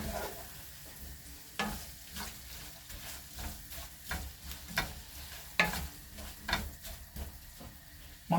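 Onions fry in hot oil in a pot, a soft continuous sizzle broken by a series of scraping stirs and light clinks, close and quiet.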